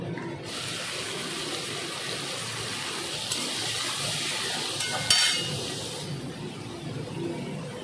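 Onion frying in a pan after prawns for prawn malaikari, a steady broad hiss with a brief clink near the end, no talking.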